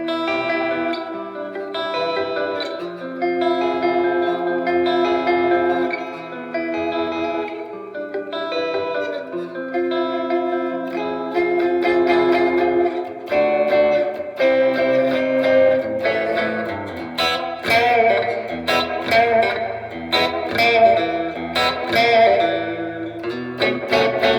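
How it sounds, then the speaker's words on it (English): Guitar played through the reverb of a Keeley Caverns V2 pedal, with the blend raised: sustained chords and picked notes ring out with a wash of ambient tail, loud and continuous, growing busier and brighter toward the end with no talking. "Blend up a little bit on the reverb to about 11 o'clock."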